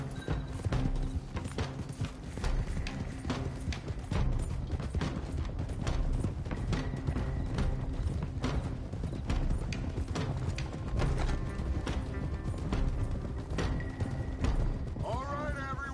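Several horses gallop in Red Dead Redemption 2, a dense, loud drumming of hoofbeats with rattling tack and a whinny near the end.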